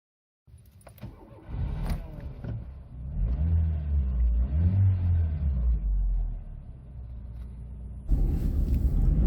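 A 1999 Renault Mégane Classic 1.6e RN Liberté starts up and pulls away for a short drive, its engine rumbling low and rising through gentle revs, with a louder burst of road and engine noise near the end.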